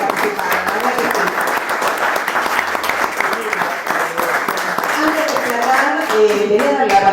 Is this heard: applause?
yes